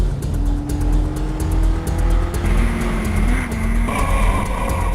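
A Legend Car race engine idles along at low speed in second gear, loud and close, with a steady rumbling drone and a slight rise in pitch partway through.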